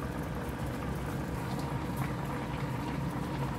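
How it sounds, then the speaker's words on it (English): Water boiling in a pot with fish and ginger, a soft continuous bubbling and rumble heard close but fairly quiet, steady with no pauses and no voices. "boiling na. Kumukulo na"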